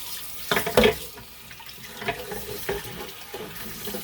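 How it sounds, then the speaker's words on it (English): Tap water runs and splashes over a brownie pan as it is rinsed in a sink. The rinsing is close and continuous, with a few louder splashes near the start. "And then I'm just going to rinse it off."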